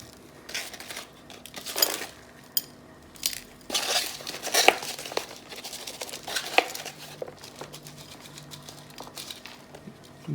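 Potting soil is mixed by hand for a Dracaena plant, giving intermittent rustling, crumbling and scraping bursts, close and moderately loud, with quiet pauses between them.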